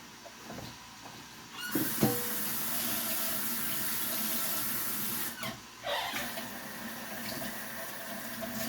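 Tap water runs steadily into a kitchen sink while smelt fish are cooked with extra virgin olive oil. It starts after a couple of seconds, breaks off briefly, then resumes as a close, continuous rushing stream with no talk.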